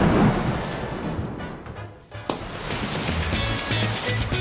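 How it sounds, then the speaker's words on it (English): Steady rain with rolling thunder, played as a sound effect, a dense hiss broken by a low rumble that dips and then swells back, continuing heavy to the end with no voices. "That means it must be rain and thunder and lightning."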